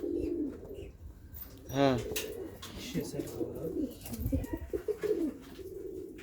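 Domestic pigeons coo close by, one clear rolling coo in the middle among softer bird sounds, while people talk over and around them.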